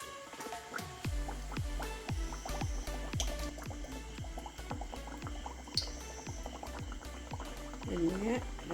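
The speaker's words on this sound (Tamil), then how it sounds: "எண்ணெயை ரொட்டிக்கு மேலே ஊற்றி கொண்டே இருந்தால்" Hot oil is spooned over a frying Jaffna-style puri in a pan, with a steady sizzle and repeated wet, splashing pours in a regular rhythm, while a voice talks underneath.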